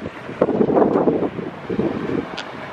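Wind buffets the microphone in a steady low rumble, gusting stronger for a moment before easing.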